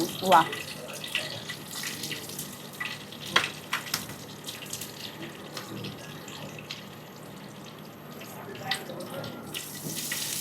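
Cumin seeds frying in hot oil as a tempering for sabudana khichdi make a soft continuous hiss with a few sharper pops and clinks near the start, fairly faint throughout.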